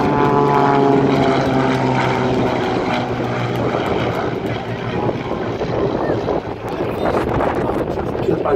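A propeller airplane from an aerobatic team flies at an air show in Gdynia, its engine drone loud and steady before dipping slightly and swelling again, with a commentator talking over it.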